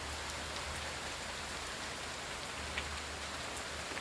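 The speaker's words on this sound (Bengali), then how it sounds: "বৃষ্টির গতি বাড়ছে এবং গাছের পাতাও পড়তেছে।" Heavy night rain pours onto tree leaves in a steady, dense hiss with no break, fairly soft and even throughout.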